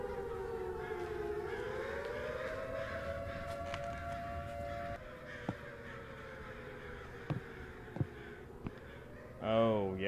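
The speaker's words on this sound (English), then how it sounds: "Why am I hearing sirens going off?" A long, wailing civil-defense-style siren in a horror video game slowly rises and falls as a steady tone over low background hum, with a few sharp clicks and a brief voice at the very end.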